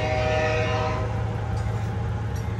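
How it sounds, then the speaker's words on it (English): A train rumbles past nearby with a loud, sustained horn blast at the start over the steady roar of the rail cars. "we're gonna wait for this train here"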